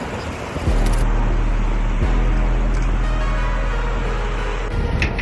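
Steady low road rumble of downtown street traffic while riding a bicycle, a continuous broad hum with passing vehicle swells and no talking.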